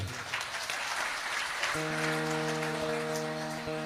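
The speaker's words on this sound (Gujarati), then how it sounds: "બસ આવ્યો ને અવાજ વધાવો હવે તાળીઓથી" Many hands clap steadily in a crowd at a stone-laying puja for a Hanuman temple, a soft rain-like patter, joined partway through by a sustained droning musical tone.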